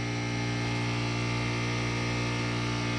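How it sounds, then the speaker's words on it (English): A steady, loud mechanical hum with a constant drone, like a compressor running nearby, unchanging throughout with no voices. "So you can probably hear my compressor."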